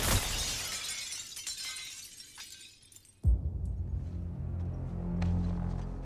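Glass shattering in a game trailer, a sharp loud crash with scattering shards after a stretch of noisy background, followed by lingering low rumble.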